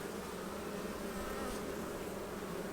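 Honey bees in a Minnesota hive during an April colony inspection, a dense steady buzz of many insects, close and continuous.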